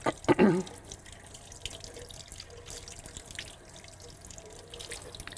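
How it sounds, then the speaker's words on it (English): Hands are rinsed under a running tap. A brief splash at the start settles into a steady, soft hiss of flowing water with faint trickles, and no one speaks. "And now you can rinse them."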